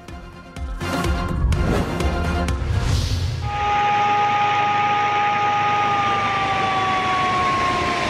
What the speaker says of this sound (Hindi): सायरन बज गए।